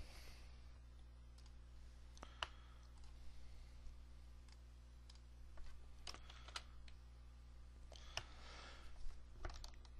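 A computer keyboard is typed on in short, scattered bursts of faint clicks over a steady low electrical hum, with no other sounds.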